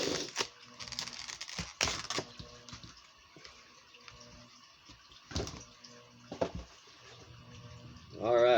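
Stapled plastic packaging of a fishing swimbait being opened, with scattered crinkles, crackles and sharp little snaps over a quiet background, ending in a louder rustle.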